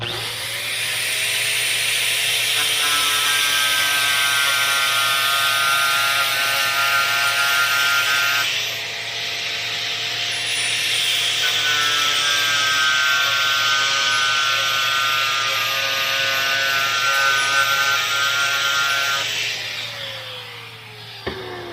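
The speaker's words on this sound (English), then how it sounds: "Gotta get it all roughed up for the paint to stick. So, sand the surface everywhere" A power sander works over the surface of a metal light mount bracket for a Polaris General, a loud steady whine with two long sanding passes separated by a brief dip, then winding down.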